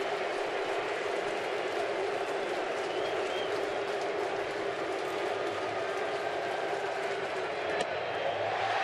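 A baseball crowd at Nationals Park during a 2012 playoff game roars and applauds steadily, a broad, sustained wash of noise from the stands, with an announcer's voice over it.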